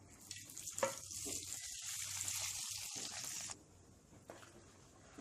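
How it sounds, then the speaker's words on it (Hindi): Hot oil tempering with curry leaves is poured into tomato chutney, giving a loud hissing sizzle that holds for about three seconds and then cuts off, leaving quieter kitchen sounds. "टेम्परिंग को इस चटनी में डाल देते हैं"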